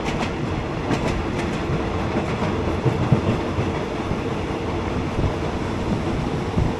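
An ordinary Thai passenger train, service 259 from Taling Chan Junction to Salaya, rumbles along the tracks with a steady roar and faint clicking rhythm, heard from inside, constant and fairly loud with no talking.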